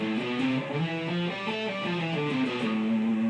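A guitar in E standard tuning runs through a pentatonic scale, one steady note after another, ringing clearly with no voices.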